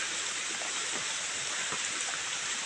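Rain falling with a creek's flowing water nearby, a soft steady wash of water with faint scattered drops, no voices.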